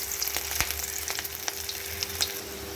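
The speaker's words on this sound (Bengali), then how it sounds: "আরও কিছুখানি বড়া আমি ভাজতে দিয়ে দিয়েছি" Fish roe fritters frying in hot oil give a steady, crackling sizzle with scattered sharp pops, close and continuous, with no talking.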